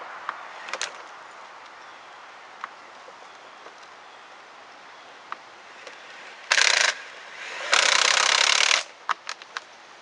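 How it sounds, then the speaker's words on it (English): A Ridgid impact driver drives screws during a hose bibb and PVC pipe repair, two loud buzzing bursts near the end, the second longer, amid scattered light clicks and taps. "with my rigid impact driver, I go on and just screw the screws in"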